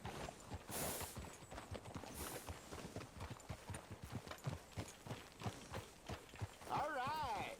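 Horse hooves clip-clop at a steady walking rhythm in Red Dead Redemption 2, close and moderately loud beneath continuous game dialogue, with a brief rising whinny-like tone near the end.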